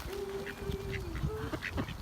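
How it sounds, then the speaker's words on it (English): Ducks quack while being fed by a child at a pond, several short honking calls scattered over a steady outdoor background, fairly close with some overlapping. "You like feeding the ducks, don't ya?"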